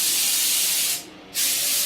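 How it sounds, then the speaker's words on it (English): A spray gun lays clear coat onto a Mustang in two steady, loud hissing bursts with a short pause between them and no talk. "Wet the forest, spray us some clear coat"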